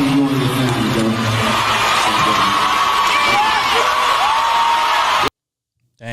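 A loud crowd cheers and whoops in a fan's phone recording, with voices shouting over a dense roar that cuts off abruptly near the end.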